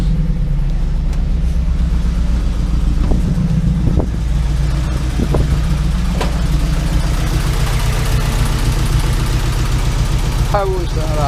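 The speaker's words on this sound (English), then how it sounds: "What's going on here then? It's only on 3 cylinders." A car engine, fitted with an ME221 engine management unit, idles roughly while misfiring on three cylinders, a loud, uneven rumble with irregular stumbles close by. A voice is heard faintly near the end.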